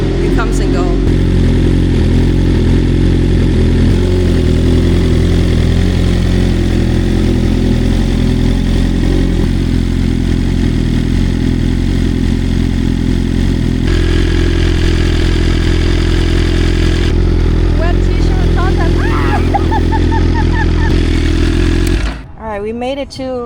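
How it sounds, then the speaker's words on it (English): A BMW M1000 RR superbike engine idles steadily and loudly up close, a deep constant throb holding for about twenty seconds before cutting out, with a voice speaking over it. "For some reason the bike didn't have an issue starting today, but it comes and goes."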